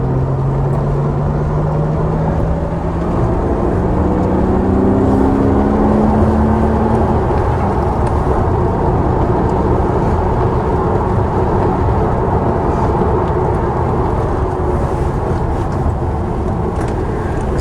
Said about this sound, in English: around Thruxton in a Porsche Cayman.